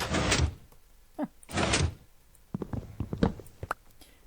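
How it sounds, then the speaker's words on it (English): A door breaks in the video game Minecraft, heard as two loud, scraping mechanical bursts followed by a scatter of sharp clicks and clacks, close and with no voices. "And now we've broken the door."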